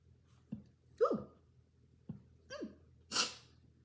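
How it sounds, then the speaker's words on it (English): A woman sneezes several times in a row, two pairs of sharp sniffing inhales followed by squeaky bursts and a final breathy sneeze, close and fairly quiet with no talking. "That's how I sneeze."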